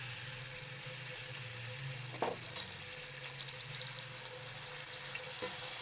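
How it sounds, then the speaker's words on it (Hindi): Long sliced onions frying in hot oil for beef korma, a faint, even sizzle with a brief clatter partway through, no voices. "सबसे पहले हम प्याज फ्राई करेंगे।"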